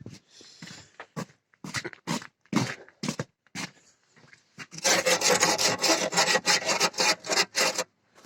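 Small brush scrubbing clean the tachometer drive mount on a T-25 tractor, first in short separate strokes, then a fast run of loud, close rasping strokes.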